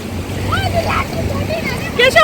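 Surf breaking on a clean, sandy beach at Shrivardhan on the Konkan coast in the morning, a steady broadband wash with wind noise, while people's voices chatter over it.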